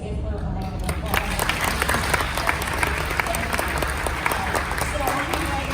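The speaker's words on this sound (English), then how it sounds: "Let's give her a round of applause." An audience at a school board forum gives a steady round of applause, many hands clapping at once with a faint murmur of voices underneath.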